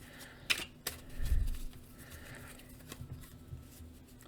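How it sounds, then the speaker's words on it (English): Tarot cards are shuffled by hand in quiet, close bursts of riffling and soft slaps, a few separate shuffles with brief pauses between them. "We're going to do a couple shuffles here."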